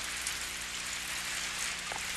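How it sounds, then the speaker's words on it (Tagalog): Rain falls in a soft, even patter, faint and continuous throughout, with no voices. "Umuulan!"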